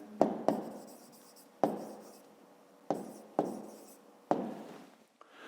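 A pen scratches across paper in a quiet room during a fifth-grade maths exercise, with several short strokes separated by brief pauses, close and fairly soft.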